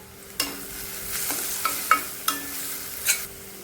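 Finely chopped green chillies fry for paneer bhurji, a quiet hiss punctuated by several distinct spatula taps and scrapes against the pan, close and unaccompanied by talk.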